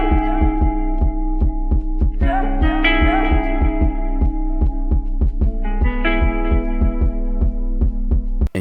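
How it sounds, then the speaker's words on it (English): A kick drum layered with an 808 bass plays as a heavy, steady loop of booming low thumps, with reverberant melodic synth layers above. "It's a kick mixed with the 808 in a pack I got"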